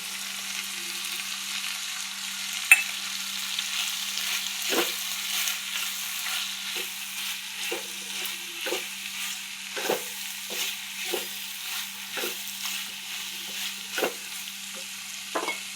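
Chhana (cottage cheese) fries with spiced masala in a pan, a constant soft sizzle broken by repeated scraping and tapping strokes from a spatula. No one speaks.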